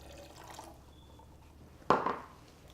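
A half cup of water is poured in a home kitchen while meatballs are made, heard as one short, splashy gush under faint room noise.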